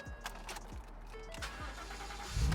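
A custom Ford F-150 pickup engine cranks over in several short repeated bursts and then catches, a rising roar swelling at the very end, close by with no talk over it.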